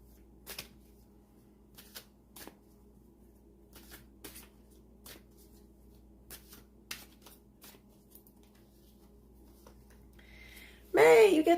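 Tarot cards are shuffled by hand in a quiet room, a series of short crisp riffling bursts spaced irregularly and close, followed at the end by a brief spoken voice.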